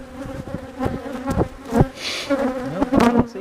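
Honeybees drone around an opened hive during a split inspection, a close, steady buzz with individual bees passing near and flaring louder.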